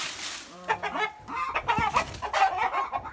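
Chickens clucking and squawking on a rural chicken farm, close and fairly loud in short bursts, with several birds overlapping.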